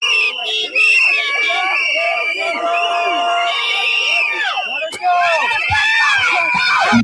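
An angry crowd screams and yells at federal agents during a street confrontation, a dense, continuous wall of shrill shouting and whistle-like shrieks, close and loud throughout with no individual words standing out.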